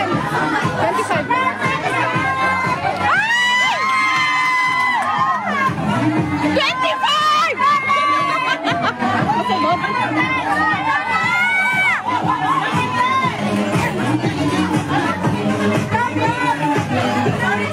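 A pageant audience shouts and cheers continuously, many loud voices with children's shrieks and chatter packed together in a dense, noisy crowd roar.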